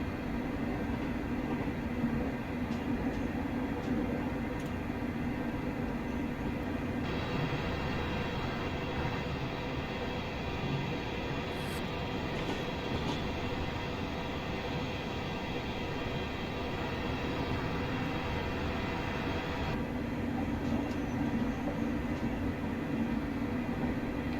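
Class 385 electric train in Train Simulator Classic, Glasgow Queen Street to Alloa route, running and picking up speed toward a 60 mph limit: a steady, continuous rumble and whine of wheels and motors, close and even throughout.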